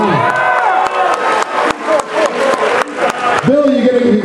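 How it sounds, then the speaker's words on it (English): A convention panel crowd at San Diego Comic-Con applauds and cheers, with sharp claps and loud whoops and shouts. Voices call out over the din. "give him a round of applause for that"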